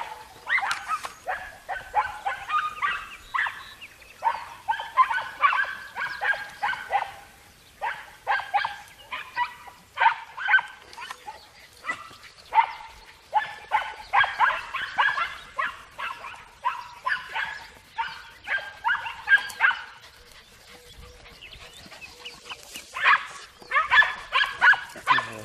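Andalusian podenco hunting dogs bark and yip in rapid, irregular bursts during a hunt outdoors, fairly close and loud, with short pauses between volleys.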